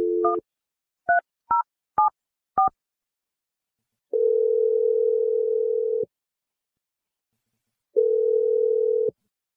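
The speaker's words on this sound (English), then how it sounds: "let's call Nicole and see if she answers and what she has to say" A phone call being placed out to a radio morning show's caller: a quick run of five dialing tones, then two long, steady ringback tones with a pause between, clear and alone with no talking.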